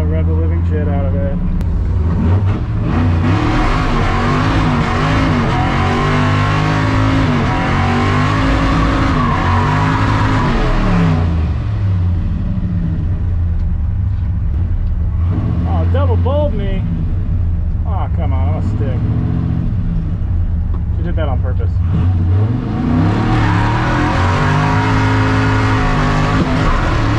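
At a drag race, a loud Ford F100 truck engine revs hard and repeatedly nearby, its roar surging and falling in pitch through several long pulls, with shouting voices mixed in beneath the engine noise.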